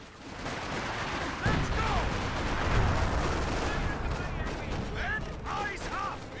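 Base artillery fires in Company of Heroes 2, repeated booms and gunfire thudding in the background while a commentator talks over the battle noise.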